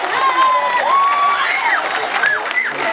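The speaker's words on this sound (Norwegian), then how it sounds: "Applaus, folkens!" Studio crowd at a Norwegian TV show's outdoor challenge event cheering and shouting with a steady wash of applause, voices rising and falling throughout, loud and close.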